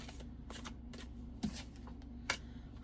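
A deck of animal oracle cards is shuffled in a quiet room, giving soft papery riffles and a couple of sharper snaps, close and alone with no voices.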